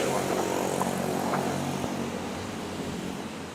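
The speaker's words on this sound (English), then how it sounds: "Already watching the aircraft roll down to the runway" Propeller or jet airliner engines drone steadily as the plane taxis toward the runway at Manila's Ninoy Aquino International Airport, a broad continuous rumble that holds for a few seconds at moderate distance.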